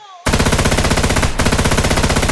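Sustained automatic gunfire from a video game, a loud rapid stream of shots starting abruptly after a brief quiet, with a momentary dip midway before the rattling burst resumes at full intensity.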